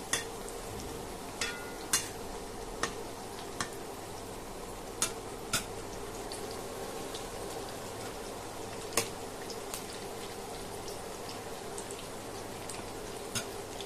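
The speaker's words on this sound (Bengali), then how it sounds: "এখন একে একে ভেজে নেব বরবটিগুলো।" Long beans frying in a pan of hot oil, a steady soft sizzle with occasional sharp pops and crackles spread through, close and moderately quiet, no voices.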